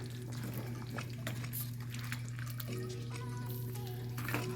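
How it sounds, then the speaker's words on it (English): A spoon scrapes and stirs seafood gumbo in a cooking pot, soft sloshing and clinking over a steady low kitchen hum, with no talking. "Stir that in there."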